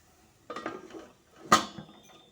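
A lid goes onto a pot of beetroot halwa to simmer, giving two close metallic clanks about a second apart, the second one sharper and brighter, in an otherwise quiet kitchen.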